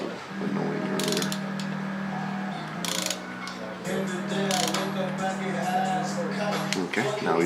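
A ratchet clicks in a few short bursts, tightening a bolt to 10 foot-pounds on a Tomei N2 oil block adapter for an SR20DET engine. Close mechanical clicks sound over a steady low hum.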